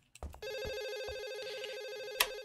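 A telephone rings with an electronic, warbling tone in the horror video game Reaping Sins. A couple of dull thuds come just before, and the ring then sounds steadily and close for about two seconds, with no talking over it.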